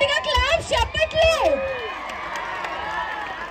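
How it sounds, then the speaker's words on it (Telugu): Audience at a New Year special stage show clapping and cheering loudly. Excited shouting voices rise and fall over scattered claps, then the crowd noise settles into a softer background murmur. "ఏది ఒక్కసారి గట్టిగా క్లాప్ చెప్పట్లు."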